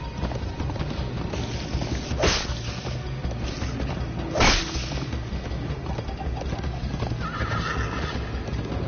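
A galloping horse with hooves clip-clopping in a steady, rapid rhythm and two sharp, loud whinnies cutting through about two seconds apart, with no talking over it.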